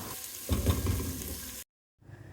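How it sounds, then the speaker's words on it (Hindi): Onions sautéing in oil in a home kitchen, a steady close sizzle with a louder burst partway through, then a brief cut to silence before the frying sound resumes more quietly. "मैंने ऑयल में प्याज को अच्छे से मैं सौटे करूँगी।"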